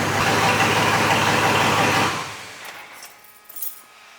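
A 2003–2006 Chevy Silverado truck engine runs with a steady, close mechanical drone for about two seconds, then cuts off, leaving faint clicks and light rattles.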